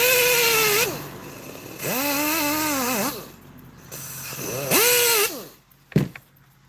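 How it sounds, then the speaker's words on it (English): A power tool with a mop head buffing a Honeywell Turbovisor DTVR part, running in loud bursts whose pitch sags and rises under load, with quiet gaps between bursts and a sharp knock near the end. "Had to sand it again."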